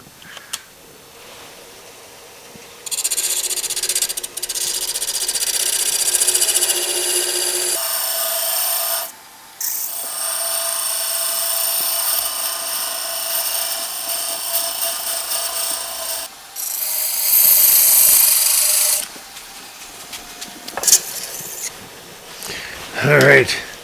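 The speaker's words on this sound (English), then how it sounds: "what I'm using to part this off is my handmade parting tool" A handmade parting tool made from a narrow reciprocating saw blade cuts into spinning burl wood on a lathe, giving loud, harsh rasping bursts that stop and restart several times, with brief quieter gaps between passes.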